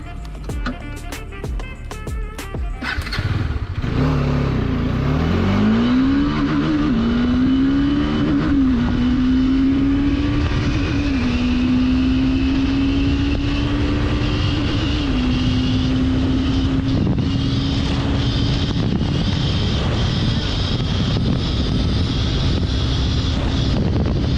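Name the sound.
Bajaj Dominar 400 motorcycle engine accelerating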